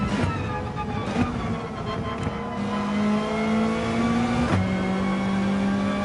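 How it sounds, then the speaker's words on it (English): A Peugeot RCZ Group 4 race car in Gran Turismo 7 at Bathurst drones steadily at high revs, its engine tone climbing through gears with brief shift dips, a constant close whine throughout. "En daar zien we een Peugeot rijden,"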